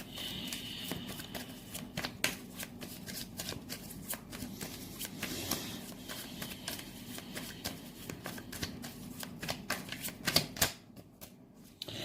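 Tarot cards shuffled by hand in a steady, continuous riffling and pattering rhythm with sharp card snaps, close and moderately loud, with no talking.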